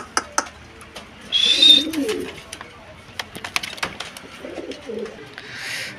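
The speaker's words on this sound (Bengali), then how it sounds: "এখানে কিন্তু আরেকজোড়া কবুতর আছে, রেসার কবুতর, মাক্সি রেসার।" Racer pigeons, a pair of maxi racers, cooing in two soft, low throaty bursts, with scattered clicks, flutters and a brief high chirp around them; no speech.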